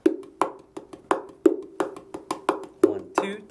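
A bongolele plays a rhythm pattern for a song, with resonant hand strikes falling in a steady, syncopated groove, close and clear with no talking.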